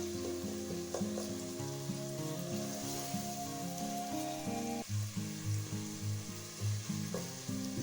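White channa pulao frying with tomatoes in a pan, a steady close sizzle running the whole time beneath prominent background music.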